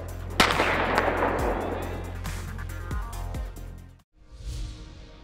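A starting pistol fired at a sprint race start, one sharp loud crack followed by reverberating echoes and a few softer thuds, with a quieter rustle at the very end.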